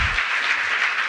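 Steady audience applause at an Emancipation Day breakfast honoring a council member, a dense, even wash of clapping heard in a short continuous burst without speech.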